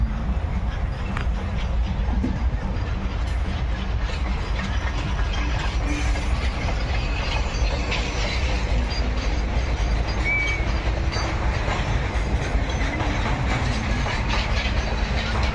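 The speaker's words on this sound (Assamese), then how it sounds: "এই ট্ৰেইন আহি আছে, কং কং কং কং কং কং কং কং কৰি আহি আছে ইয়াত।" A train rolls past on rails near Deepor Beel, a loud, continuous rumble with a steady rattling clatter that holds for the whole stretch without letting up.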